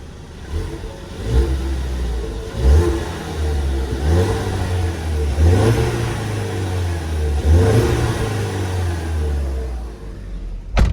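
A Ford S550 Mustang EcoBoost engine revs repeatedly through an exhaust with resonator, cats and muffler, several deep rising bursts over a steady idle rumble, close and loud.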